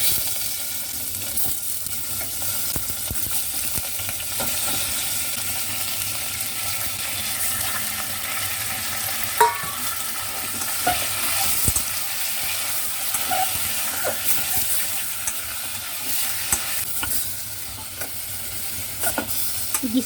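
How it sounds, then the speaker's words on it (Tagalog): Pork ribs sautéing with garlic in a hot pan for a braised mui choy dish, a steady loud sizzle and hiss with occasional stirring scrapes running throughout, no voices. "Igisa natin hanggang siya mag-brown konti."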